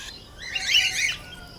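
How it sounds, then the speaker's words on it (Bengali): A single bird call rises briefly close by at a feeding spot, sounding as a short bright chirping phrase over quiet background. "ক্যামেরা দেখে কিন্তু পাখিগুলো আসতে চাইছে না"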